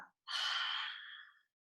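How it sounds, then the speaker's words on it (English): A single deep, breathy exhale out through the mouth during vinyasa yoga, a close, clear sigh lasting just over a second that fades gradually into silence. "And clearing, releasing, exhalation out your mouth."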